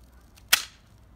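A single sharp BB gun shot cracks out close by, brief and snappy, against a quiet backyard background.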